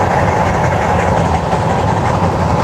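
Freight train hauling a Chicago Northwestern hopper car rolls past close by, a steady loud rumble with faint clickety-clack of wheels over rail joints throughout.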